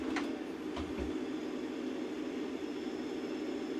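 Truck engine pulling while shifting up rapidly through the gears: a steady, droning low-pitched rumble with faint rattling clicks near the start, continuous and fairly loud throughout.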